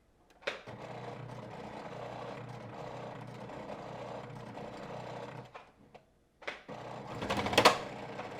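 A Brother ST150HDH heavy-duty sewing machine stitches through six layers of fabric in a steady, close, continuous mechanical run that stops briefly and then resumes in a louder, strained burst.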